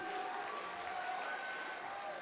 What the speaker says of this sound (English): can we first have a huge round of applause for them